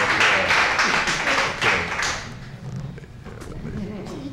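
Audience clapping for a poet at a 1999 poetry reading in a branch library: a brisk round of many hands clapping loudly, then thinning and fading out over a few seconds with some murmuring.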